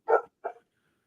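A dog barks twice in quick succession in the background of an indoor conversation, fairly close and clear, with no talk over it.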